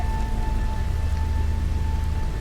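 Heavy storm rain pours down on a hostile planet in No Man's Sky, a loud, dense, continuous roar with a deep low rumble and steady hiss, unbroken and with no voices.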